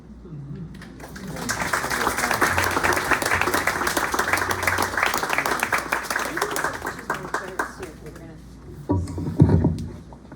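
A small bookstore audience at a poetry reading breaks into applause, building from quiet into a sustained patter of many hands clapping, then fading, with a voice speaking briefly near the end.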